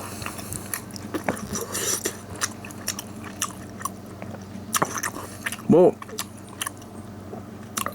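Crispy fried spicy rice cakes coated in sauce are bitten and chewed up close, with soft crunches and wet mouth sounds scattered between moments of talk.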